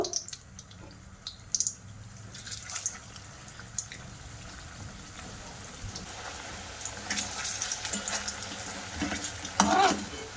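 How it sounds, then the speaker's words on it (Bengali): Carrot-juice-filled puli pitha cakes crackle and sizzle in hot oil, a continuous bubbling hiss with occasional sharper pops and light clinks, no talking. "এবার আমি ওর মধ্যে পিঠাগুলো সব দিয়ে দেবো এক এক করে দিয়ে ভাজা করে নেব"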